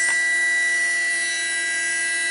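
A small electric motor spins steadily at about 20,500 RPM, giving a loud, constant high-pitched whine with sharp tonal harmonics after a brief click at the start.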